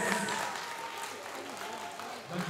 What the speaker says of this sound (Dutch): Leerlingen van de eerste klas, mag ik even applaus voor de Pallieders?